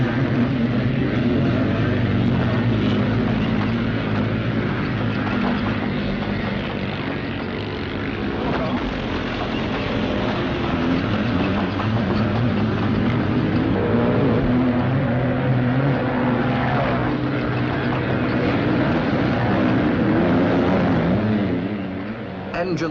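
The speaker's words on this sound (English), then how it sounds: "Engines scream as they roar up the banks." Greeves scrambler motorcycles race around a rough cross-country course in Britain, their engines roaring loud and steady throughout, revving hard as they climb banks and hit bumps.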